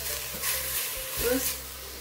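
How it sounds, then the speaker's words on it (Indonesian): Garlic, ginger, star anise and cinnamon stirred in a hot pan for a braised pork trotter dish, a steady close sizzle with scraping utensil strokes throughout. "Nah, ini kita aduk terus"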